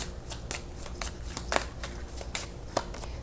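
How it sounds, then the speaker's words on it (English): Tarot cards are shuffled by hand in quick, repeated riffles and slaps, each one crisp and close. "I'm just going to keep shuffling"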